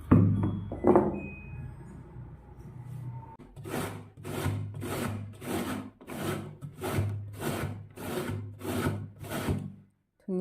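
Fresh coconut rasped into long strips on a grater, about nine steady, evenly spaced scraping strokes, close and fairly loud after a few seconds of quieter handling noise.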